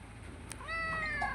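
A single short cat meow rises near the end, fairly faint, over a quiet background.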